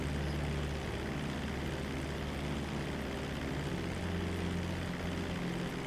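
Propeller plane in flight in Grand Theft Auto V, a steady, loud droning engine hum and whirring airscrew that holds constant throughout without breaks or talking.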